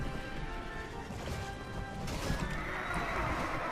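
A horse neighs in the medieval combat game Mount & Blade: Warband, a whinny rising over steady battlefield noise and clattering hooves, fairly close and continuous for a few seconds with no talk.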